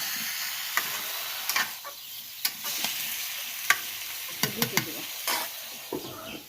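Pumpkin chunks stirred into fried spices in a pan, with a steady sizzle broken by scraping clicks of the spoon at irregular intervals, close by and with no talking.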